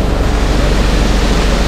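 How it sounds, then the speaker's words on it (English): A small waterfall at Scott's Run Nature Preserve in Virginia, near the Potomac River, heard close up as a steady, loud, unbroken rush of falling water with no voices. "So here's the waterfall close up."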